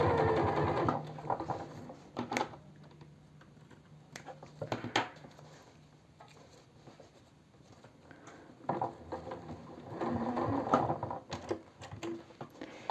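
A sewing machine stitches a seam close to the piped edge of a pajama garment in short, close bursts of rapid whirring at the start and again near the end, separated by quieter handling sounds.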